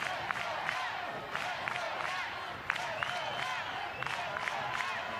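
Crowd noise from spectators at a college softball game between Oregon and Stanford, a steady distant murmur and cheering with scattered shouts and whistles throughout.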